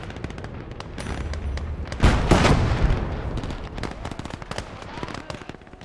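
Artillery fire in the video game Blood Red Snow, a heavy booming blast that rolls out over a steady background of scattered battlefield pops and distant gunfire, fairly loud and with no speech.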